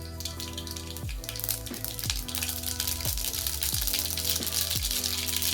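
Mustard seeds sizzle and crackle in hot oil in a kadai for a green peas curry, a steady frying hiss with repeated sharp pops and spits, close and continuous throughout.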